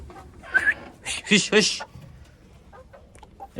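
Small hens clucking close by in a few short bursts, with a voice talking over them.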